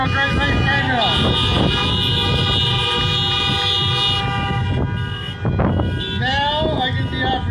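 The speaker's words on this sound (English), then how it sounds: "honk that horn" Several car horns honk and toot repeatedly amid crowd noise and voices at an outdoor Trump 2020 rally in Helena, Montana, loud and close, with a sustained horn blast early on.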